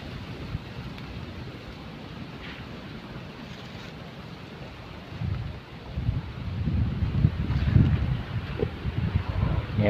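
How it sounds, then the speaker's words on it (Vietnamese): Strong stormy wind blows outdoors as a steady broad roar that swells into heavier gusts in the second half, buffeting the microphone. "Hôm nay thì ở đây đầy sóng gió và rất là bão bùng nổi lên rất là mạnh"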